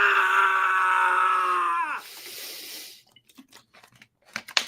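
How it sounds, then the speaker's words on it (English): A scream sound effect fires from a soundboard button: a loud, sustained shriek whose pitch sags and cuts off after about two seconds, followed by a stretch of hiss and then scattered quiet clicks and knocks. "That scream button, I put that scream button there"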